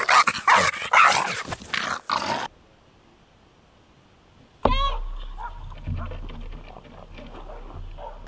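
A dog barks a few times at close range, with brief harsh calls after a stretch of near silence and following earlier voices and noise.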